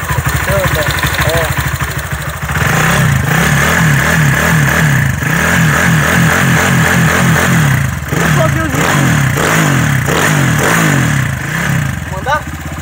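A Honda CG 160 motorcycle fitted with a 190 big-bore kit revs loudly up close, the engine rising and falling in repeated throttle blips over a rough idle, with people talking over it.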